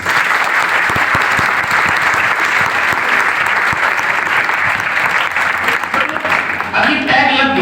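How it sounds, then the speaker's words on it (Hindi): A packed room claps loudly for Kritika, the top-ranked NDA girl candidate, at a coaching centre in Sonipat, Haryana, dense, fast and sustained applause with a few sharper claps, close and strong before briefly easing at the end. "जोरदार ताली।"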